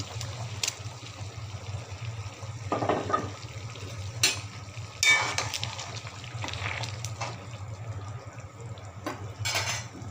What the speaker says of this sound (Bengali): জলটা ফুটে উঠেছে এখন দিয়ে দেব মাছগুলো